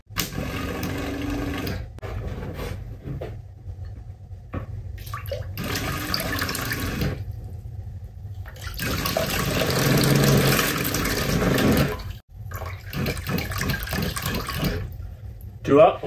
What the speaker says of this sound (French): Je vais vite tester la pompe avec un seau d'eau